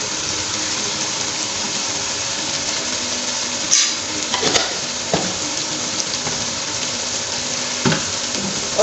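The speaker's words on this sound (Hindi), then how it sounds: "अब 5 मिनट के लिए इसे हमने भूनना है।" Chana pulao masala with chilli and black pepper roasting in a pan, a constant loud sizzle and hiss with occasional sharper clinks and scrapes of a stirring spoon.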